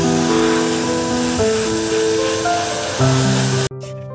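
Airbrush spraying a matte coat onto a model Sturmgeschütz III tank: a steady loud hiss under bright tonal music, cutting off sharply near the end.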